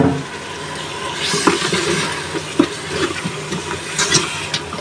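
Washed beef goes into a pot of sautéed ginger, garlic, cumin and chili masala, giving a steady close sizzling hiss with scattered sharp crackles and pops throughout.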